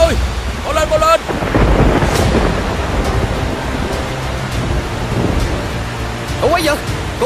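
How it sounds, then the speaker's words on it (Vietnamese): Sudden heavy rain with thunder in an animated folk tale, a steady loud roar of rainfall with a booming rumble, while voices call out over it. "Sao bỗng nhiên mưa to vậy nè?"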